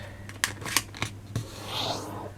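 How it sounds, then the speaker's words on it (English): Paper letter page being folded in half by hand for a DIY card, giving a few short crisp crinkles and scrapes close up, then a softer rustling swish as the crease is pressed flat. "We're going to fold it in half"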